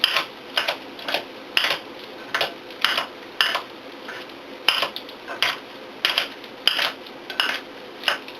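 A knife slices a tomato on a board for a BLT sandwich, making a regular series of sharp, close taps about every half second, with no talking.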